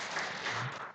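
A church congregation applauds newlyweds during a Sunday service, a brief burst of steady clapping from many hands, moderately quiet and heard alone.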